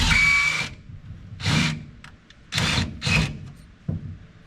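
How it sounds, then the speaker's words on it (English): A power drill whines in several short bursts, grinding through two layers of metal on a 1948 Chevrolet Fleetmaster with pauses between, close and fairly loud. "That drill bit's a smoking"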